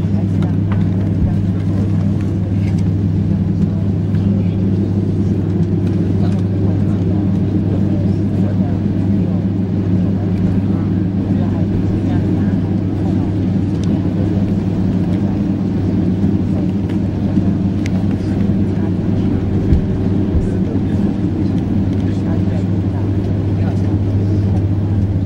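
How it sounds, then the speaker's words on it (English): Cabin noise from a Finnair Airbus A350 XWB during takeoff: a loud, constant low engine rumble and roar fills the cabin throughout, with faint rattles and no voices. "takeoff."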